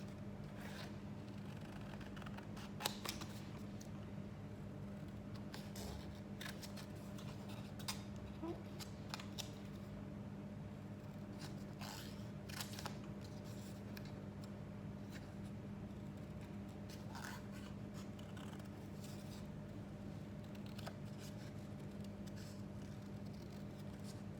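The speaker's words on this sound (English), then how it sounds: "So I've got my template drawn, and I'm just going to cut round them." Scissors cutting card around a drawn template for a tulip pop-up card, with quiet intermittent snips and crisp clicks over a steady low hum, close by.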